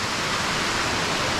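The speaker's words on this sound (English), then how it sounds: "The water's going right here under our feet" Water rushes steadily at Twin Falls in Rock Island State Park, Tennessee, a close, loud, continuous broadband roar with no other sounds.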